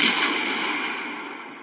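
A Molotov cocktail bursting in an indie action game, a loud broadband whoosh of flame that starts sharply and then holds as a steady roar, slowly fading across the short stretch with no voices.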